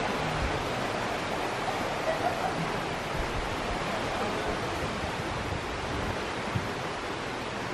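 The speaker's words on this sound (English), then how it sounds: "Look at the river. Oh, wow. It's the river." Steady broadband rush of a tropical river flowing during a rafting trip in Jamaica, a continuous even wash of water noise with no clear breaks, heard fairly close and alone.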